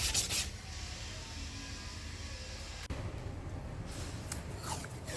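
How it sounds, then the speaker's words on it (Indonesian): Wet sanding on a dented bumper of a Mitsubishi Xpander Cross, Quartz White paint, using water: a steady close rubbing and scraping hiss runs throughout, with a brief break near the middle and no talk. "kami menggunakan air untuk membantu proses menggosok"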